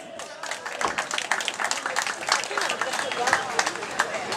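Audience at a piazza applauding to welcome a singer, crisp dense clapping that rises and stays lively, mixed with crowd murmur and some talk in the background.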